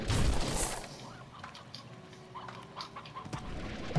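Hens clucking in a video game, a few scattered clucks and short calls at moderate level over a steady background hum, with a louder burst at the start; no one speaks.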